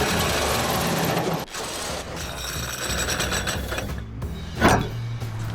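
Hand tools grind and rasp continuously at a drilled hole in a plastic water tank for a camper van. The close, rough scraping has brief pauses and one sharp knock near the end.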